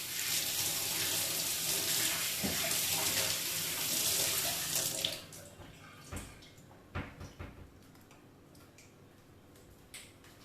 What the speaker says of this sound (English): I just need to wash my hands 1 second.